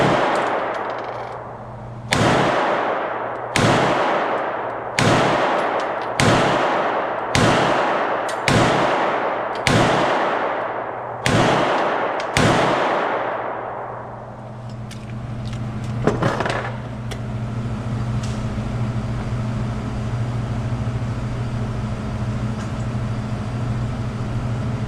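Ten pistol shots from an M&P 2.0 fitted in a CAA micro conversion kit chassis, fired at about 10–12 yards: sharp, loud reports in a steady, evenly spaced rhythm, followed by a quieter hum and a single faint clank.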